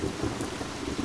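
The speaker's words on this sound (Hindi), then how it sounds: "धूल जैसी बारिश की आवाज छत पर पड़ रही है।" Heavy storm rain pours onto the roof of an old, half-broken wood-and-stone house in a dense forest, a steady close drumming wash with a low rumbling undertone.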